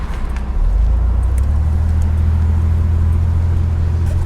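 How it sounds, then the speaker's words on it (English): A 1987 Buick Grand National with a turbo V6 runs at full throttle under a bridge, its exhaust a loud, continuous deep rumble that swells and holds steady throughout. "We'll give it a little bit of a full throttle right here under the bridge so you can hear the exhaust."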